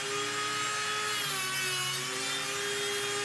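Dremel rotary tool cutting through a 26650 LiFePO4 battery module, a loud continuous high-pitched grinding whine close up that dips slightly in pitch midway, heard alone without voices.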